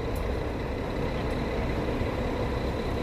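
An Aviação São Bento bus arrives at the Ribeirão Preto bus terminal, its engine a steady, fairly loud diesel drone.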